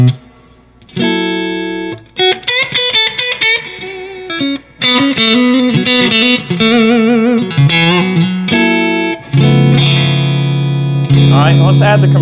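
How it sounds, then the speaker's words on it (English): An electric guitar through a Mesa Mark V amp with its built-in reverb plays a series of chords and riffs, a reverb tail washing behind the notes, loud and close, with no talking. "Let's add a little bit of reverb to that."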